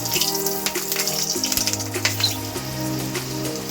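Bay leaf, cinnamon, clove, cardamom and three slit green chillies fry in hot oil for a potato paneer curry, a close, crackling sizzle with irregular sharp pops and a low background hum throughout.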